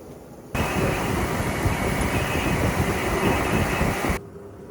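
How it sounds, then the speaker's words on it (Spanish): A steady, loud rumbling drone of two motorcycles pushing a rail cart along train tracks, with rattling undertones, starting abruptly and holding constant for a few seconds before cutting off. "Se aprovecha las rieles del tren y dos motos van empujando desde atrás."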